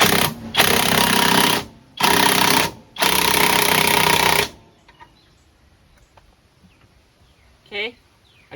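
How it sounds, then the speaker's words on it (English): A floor jack raising a homemade racing lawn mower gives three loud, steady buzzing mechanical bursts close by, each a second or more long with short gaps, then quiet with faint rustling and a brief chirp near the end. "Okay, I just jacked the mower up."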